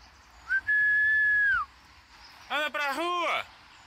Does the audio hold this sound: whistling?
yes